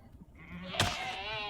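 A Quantum Goat in the Minecraft FTB Skies Expert modpack gives a single bleat midway, with a sharp burst that trails into a wavering, sustained cry over quiet game ambience.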